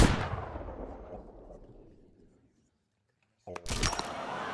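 A single loud gunshot in the Penn & Teller VR game booms and fades slowly over about two seconds, followed by silence and then a short, sharp burst of noise near the end.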